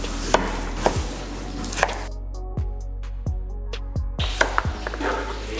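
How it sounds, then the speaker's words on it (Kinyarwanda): Carrots and potatoes being chopped with a knife on a cutting board, a string of sharp, close thuds arriving at an uneven, unhurried pace, with a quieter gap in the middle. "Turatangira gukata ibi bikoresho byacu."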